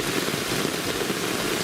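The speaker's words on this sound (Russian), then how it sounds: "тут ливень" Heavy rain pours down in a steady, dense downpour at night, a continuous close hiss of drops striking surfaces with no pauses.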